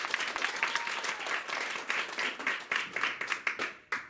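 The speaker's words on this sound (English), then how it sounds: "After a round of applause" An improv show audience gives a round of applause, a dense patter of many hands clapping with a few louder claps near the end, fairly far off and fading out.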